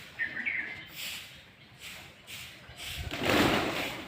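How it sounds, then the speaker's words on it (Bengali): Pigeons calling in soft cooing bursts while feeding, with a louder, fuller stretch near the end and light chirpy and thumping sounds around them. "বাক বাক বাকুম করে ডাকছে আর খাদ্য খাবার খাচ্ছে।"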